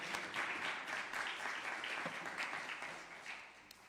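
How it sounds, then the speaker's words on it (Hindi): A church congregation claps for God during a Sunday service, sustained crowd applause that gradually fades toward the end. "जोर से खुदावन के लिए ताली बजाएंगे"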